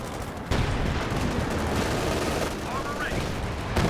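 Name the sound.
submachine gun fire in Company of Heroes 2 video game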